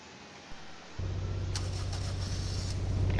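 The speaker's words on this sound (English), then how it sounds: "let's hop in and listen for a startup" A 2012 Nissan Sentra SR cranks and fires up after a second of near quiet. Its engine then settles into a loud, steady idle that continues to the end.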